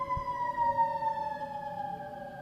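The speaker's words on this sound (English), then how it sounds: "Letting that siren pass by." An emergency vehicle siren passes by, a steady sustained wail holding a tone and slowly falling in pitch, moderately loud and heard alone without talk.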